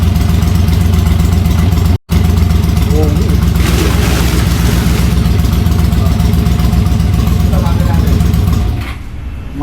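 A Honda CB650R motorcycle sits idling nearby, its engine a loud, steady rumbling drone that holds even through a brief cut-out. People chat over the running bike.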